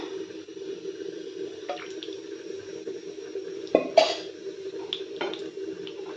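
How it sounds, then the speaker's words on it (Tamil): Cooking oil is poured into a kadai pan while bitter gourd thokku is being made: a faint, soft trickle over a low steady hum, with a couple of brief clinks of the pan midway. "எண்ணெய் ஊற்றிக்கலாம்."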